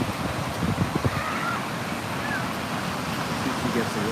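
Ocean waves at a beach during a surf contest, a broad, steady roar of surf mixed with wind buffeting the microphone, with a voice talking faintly underneath.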